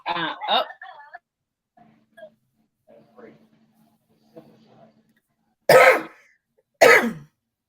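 Two sharp, loud coughs close to the mic near the end, following a few short throat noises and quiet murmurs; a brief burst of voice opens the stretch.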